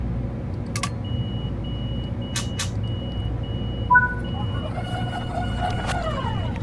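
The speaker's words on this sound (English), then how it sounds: "The doors are closing. The doors have closed. You hear the beep." Door-closing beeps aboard an M7A MTA commuter train on the Harlem Line in Train Sim World 5, a thin steady tone with short electronic chimes over a constant low motor hum, followed by rising whistles.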